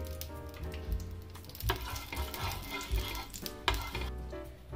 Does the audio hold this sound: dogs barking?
no